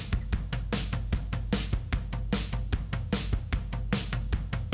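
A steady programmed drum groove plays on its own: booming kicks and crisp, bright snare hits repeating in an even, driving rhythm, full and close.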